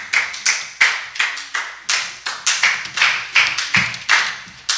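Church congregation clapping in rhythm to acclaim the Lord at a French-language evangelical service, loud sharp claps in a fast steady beat with accented pulses, close and continuous, no speech.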